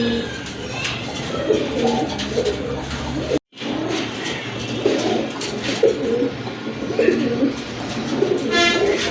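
Pigeons of the Andalusian colour and other fancy breeds coo continuously in a loft, soft overlapping throaty calls close by, broken by a brief dropout partway through.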